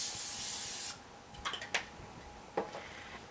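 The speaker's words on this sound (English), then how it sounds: "I'm going to spray it with some spray oil." A short hiss of cooking oil spray hits a foil-lined baking pan, followed by a few quiet clicks and taps.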